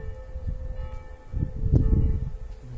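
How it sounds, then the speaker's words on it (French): A church bell rings faintly in the distance, its steady tones hanging in the background outdoors beside a garden in France, over a low, uneven rumble. "avec en bruit de fond celle de la cloche"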